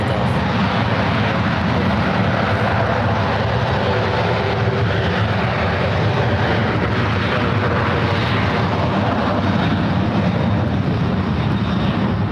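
Airliner taking off at San Francisco airport, a steady, loud broadband jet engine roar that holds constant throughout with no talk.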